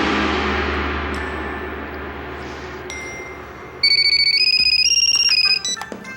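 A telephone ringtone plays as a bright, stepped electronic melody, loud and close, over faint room ambience, then cuts off abruptly near the end.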